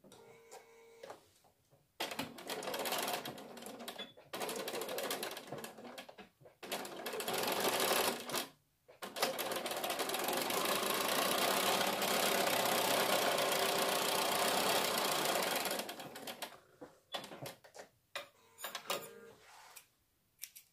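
A sewing machine joins Dresden Plate quilt pieces, running in several steady bursts with one long continuous stretch in the middle and short starts and stops around it.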